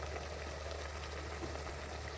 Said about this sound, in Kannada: ಮಿಕ್ಸ್ ಮಾಡಿದ ನಂತರ ನಾವು ಮೊದಲೇ ರುಬ್ಬಿಟ್ಕೊಂಡಂತಹ ಮಸಾಲೆನ ಹಾಕ್ಕೊಳ್ಳೋಣ